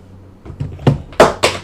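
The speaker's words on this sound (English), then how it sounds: "I'm just going to shut this door, actually." A door being shut indoors gives a few soft knocks and a firmer closing thud near the end of the short stretch, with no talking.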